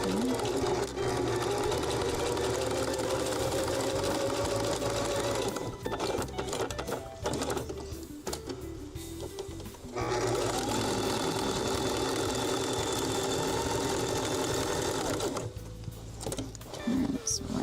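A sewing machine stitching a zigzag, running in steady mechanical bursts with brief pauses around the middle and near the end, close and fairly loud.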